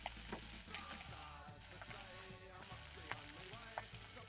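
Vegetables for Hawaiian fried rice fry in a pan with a steady close sizzle, broken by a few sharp ticks and scrapes of stirring.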